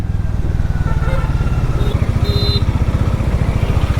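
A Hero Mavrick 440 motorcycle engine thrums steadily up close in traffic with a fast, pulsing low rumble, accompanied by faint road noise.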